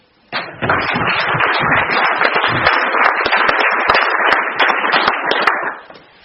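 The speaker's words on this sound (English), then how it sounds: "So give yourself a round of applause." An audience at a Wrexham Football Club community shares presentation evening bursts into dense, sustained applause for several seconds before it tapers off.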